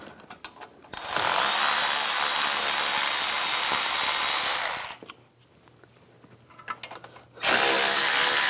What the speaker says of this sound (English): Using a 7mm hex socket, loosen up the caliper bolts.